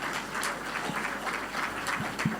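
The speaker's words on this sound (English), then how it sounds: "Please, a round of applause for him once again." A conference audience at a Ghana fintech awards debate gives a steady round of applause, a continuous crackling wash of clapping with a few low thumps, moderately close.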